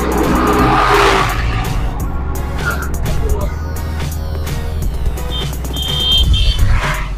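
A car drives along a road near a shrine, its engine humming steadily at close range while tires rumble and passing traffic swells by, with occasional higher tones; someone talks faintly underneath.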